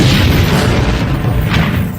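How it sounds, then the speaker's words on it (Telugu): A bomb explodes in a Telugu action movie scene, a heavy, sustained boom with deep low rumble and crashing debris that stays loud for the full two seconds, with no talk over it. "హీరోయిన్ వేసిన ఒకే ఒక్క బాంబుతో ఆ ప్రాంతం అంతా దద్దరిల్లిపోయింది"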